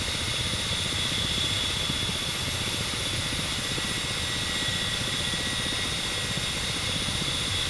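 Ka-50 helicopter hovering in the DCS flight simulator gives a steady, loud rotor and turbine drone with constant whine, unbroken throughout and with no voices.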